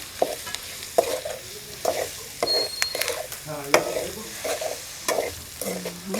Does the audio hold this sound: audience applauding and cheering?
no